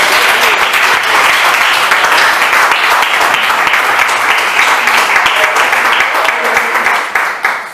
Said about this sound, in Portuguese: Aplauda ao Senhor nessa noite.